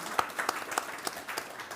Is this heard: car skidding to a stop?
no